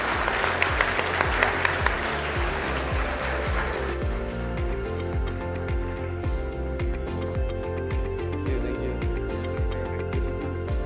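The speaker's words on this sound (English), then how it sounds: "please give a round of applause to our panelists" An audience applauds panelists at a university student and alumni panel event, clapping dense at first and thinning after a few seconds, heard over a steady low rumbling background.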